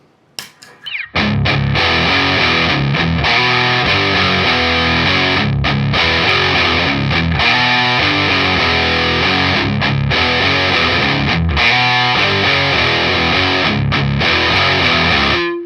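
Heavily distorted electric guitar through a distortion pedal plays chunky rhythmic chords, loud and saturated, with brief choppy gaps between phrases.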